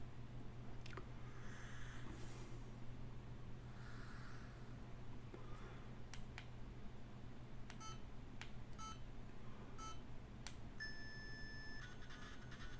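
Out Run chiptune game sounds from a Pocket Sprite handheld console emulating a Game Gear, faint beeps and short electronic tones scattered over a low steady hum, with no voices.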